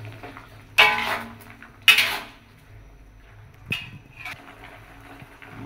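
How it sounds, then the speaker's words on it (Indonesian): A spoon scrapes and clinks against a cooking pot while food is stirred during home cooking, with two sharp strokes near the start and a softer one later, close and moderately loud, with no talking. "Kita aduk lagi."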